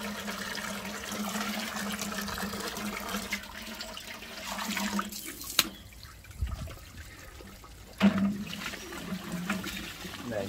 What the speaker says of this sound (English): all I do is take the hose and just give the barrel a nice swill out